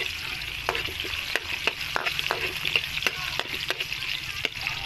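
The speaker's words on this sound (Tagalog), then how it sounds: "Sigasan na natin yung sibuyas bawang." Onion and garlic sauté together in a hot pan, giving a continuous close sizzle with frequent sharp clicks and scrapes of a spatula stirring against the metal.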